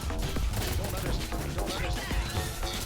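Rapid bursts of gunfire in the Roblox game Ink Game crackle in quick succession, loud and close, with a voice talking over the shots.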